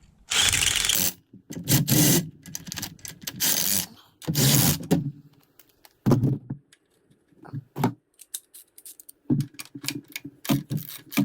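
Hand socket and ratchet tightening engine mount bolts on a Volvo, bursts of rapid clicking and metallic mechanism noise in several close, loud runs separated by brief pauses, with no talk.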